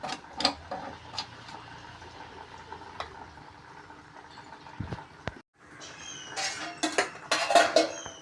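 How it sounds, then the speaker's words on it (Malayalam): A metal pan set down on a kitchen stove, with a few clanks and scrapes of cookware, then a louder burst of clattering near the end, all close by and without talk. "ഇവിടെ സ്റ്റൗ കത്തിച്ചിട്ട് ഒരു പാൻ വെക്കാം"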